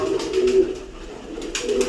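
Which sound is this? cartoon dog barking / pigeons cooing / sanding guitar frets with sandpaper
pigeons cooing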